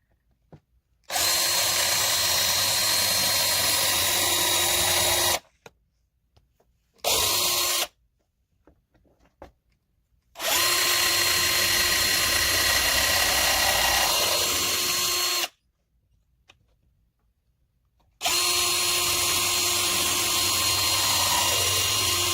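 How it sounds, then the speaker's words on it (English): A power drill whines loudly, pre-drilling nail holes in birdhouse wood in several long bursts, separated by short silent pauses. "we are going to start drilling our holes with this drill"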